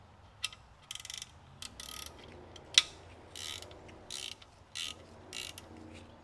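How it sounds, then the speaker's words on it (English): Hand ratchet loosening bracket bolts on a 2012 Chevy Equinox, quiet bursts of rapid clicking pawl ticks in short separated runs, with one sharper metallic knock partway through. "So first we're going to take the bracket off, 30 millimeter."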